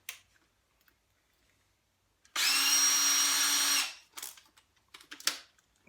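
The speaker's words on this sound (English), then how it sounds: "Put it in my drill." A power drill fitted with a 1/8 inch bit spins up in a single loud, steady whir lasting about a second and a half, then quiet clicks and handling noises as the chuck is tightened.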